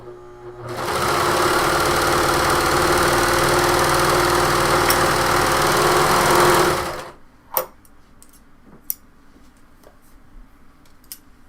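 A serger sewing machine overlocks sleeve edges for a top, running loud and steady at high speed for about six seconds before stopping, followed by a few quiet clicks and handling noises.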